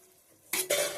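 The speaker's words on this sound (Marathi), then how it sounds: "आता झाकण मारून ठेवतोय" A lid goes onto a pan of Konkan-style bhindi bhaji cooking with coconut, giving two quick, close metallic clatters in succession after a near-silent moment.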